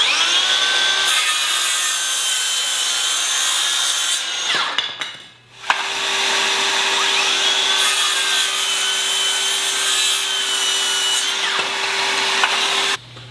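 A Makita sub compact 6.5-inch circular saw cutting through wood, a loud high-pitched whine under load through two long cuts with a short pause between them, heard alone at close range.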